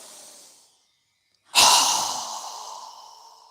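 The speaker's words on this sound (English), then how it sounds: "through our mouth with a strong exhale" A single strong yoga exhale through the mouth rushes out loudly and close after a brief silence, trailing off gradually, with a faint breath just before.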